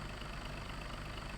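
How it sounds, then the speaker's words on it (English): A Volvo VNL truck idles in American Truck Simulator, giving a steady, close, low diesel rumble with a constant hum and no changes in revs. "I turned the engine volume up a little bit"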